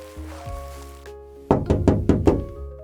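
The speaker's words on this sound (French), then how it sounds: "Puis, les enfants toquèrent à la porte." Children knock on the wooden door of a cabin, five sharp, close thunks in a quick, even rhythm, coming after a stretch of soft music.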